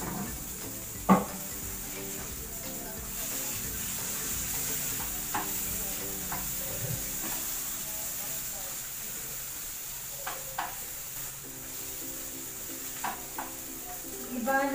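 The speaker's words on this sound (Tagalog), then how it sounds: "Nagluluto ng hotdog." Hotdogs fry in hot oil in a pan, giving a steady sizzle for the whole stretch, with occasional clinks and scrapes of a utensil against the pan and faint voices in the background.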